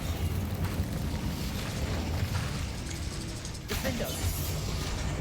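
Incendio fire spell cast in the Hogwarts Legacy video game amid combat, a dense roaring burst of flame and rumbling impacts with crackling debris, loud and continuous, with a voice talking over it.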